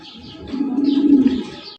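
A pair of Indonesian racer pigeons sitting on eggs gives a soft, low, rolling coo that swells and fades over about a second, with faint background noise.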